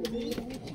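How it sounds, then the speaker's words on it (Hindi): Soft, low cooing of a Madrasi pigeon close by, a short throaty warble with a few gentle pulses. "ये है भाई कबूतर"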